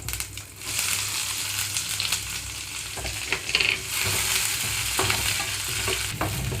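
Chopped onions fry in oil with cumin for mint rice, giving a continuous close sizzle broken by scraping stirs and a few louder knocks of the spoon against the pan.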